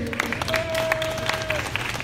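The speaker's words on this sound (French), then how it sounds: "Une bonne main d'applaudissement pour Loïc." An audience at the Salon Québec 2017 show applauds a volunteer with a dense, steady patter of clapping over a busy crowd hum. A brief sustained tone sounds partway through.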